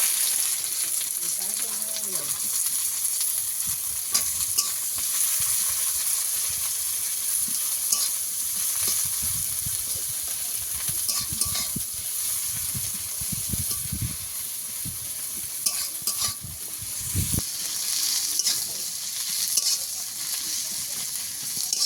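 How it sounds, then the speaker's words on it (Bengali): Onions frying in oil in a pan for a Bengali greens dish, a steady close sizzle with occasional stirring scrapes running throughout, no talking. "ভালো করে লাল করে ভেজে নেব"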